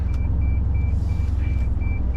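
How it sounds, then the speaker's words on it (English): A high electronic beep repeats at an even pace, roughly twice a second, over a loud low engine rumble inside a delivery truck. "that beeping sound constantly going off"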